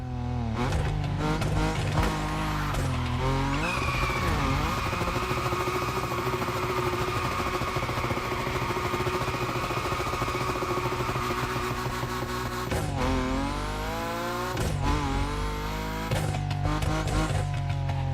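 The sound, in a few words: Nissan 370Z drifting with tire squeal, from a video game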